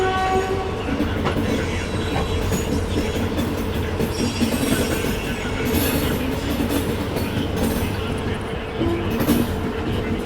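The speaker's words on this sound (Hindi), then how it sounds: "फाइनली अपनी गोरखधाम सुपरफास्ट एक्सप्रेस पहुंच चुकी है अपनी फाइनल डेस्टिनेशन गोरखपुर में" The Gorakhdham Superfast Express pulls into Gorakhpur station, its carriages rumbling and clattering steadily with a brief horn note near the start, amid a busy, noisy platform atmosphere.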